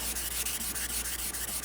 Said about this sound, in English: That means I'm not sanding carbon fiber. I'm sanding epoxy.